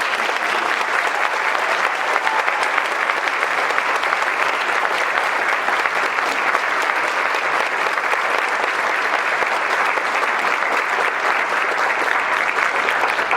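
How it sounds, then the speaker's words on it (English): A concert audience at a 2022 Veterans Day event gives sustained applause for veterans, with steady, dense clapping from a large crowd that holds at an even loudness throughout with no voices over it. "One more round of applause, please,"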